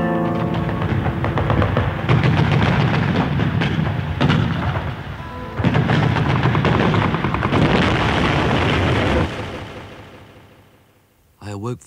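Gunfire sound effect in a radio drama: heavy rolling bursts of shots and booms, loud and sustained with brief gaps, fading out before a last short burst.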